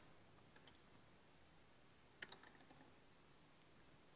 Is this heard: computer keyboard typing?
yes